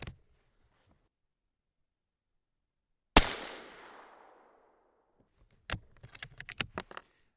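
A single 6.5 Creedmoor rifle, loaded with 43 grains of Reloader 26 in a very full case, fires one sharp, loud shot with a long decaying echo, followed later by a series of small metallic clinks and clicks.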